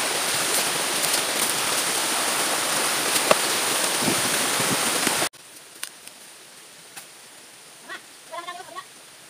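Steady rushing water fills the first half, loud and continuous like a flowing river, then drops to a quieter background with faint voices near the end.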